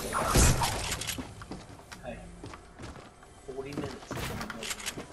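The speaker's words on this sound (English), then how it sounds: "He's shooting through the window." In a shooter game, a gunshot fired through a window gives one sharp, loud crack with a glassy shatter near the start, followed by quieter clatter and thuds while people talk throughout.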